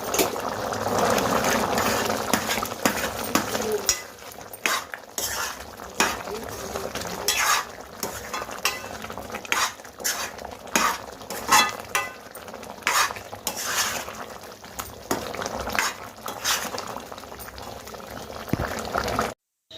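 Fried kabuli chana masala with butter stirred in a pan, a steady bubbling sizzle under repeated scraping strokes of a spoon against the metal, close and continuous.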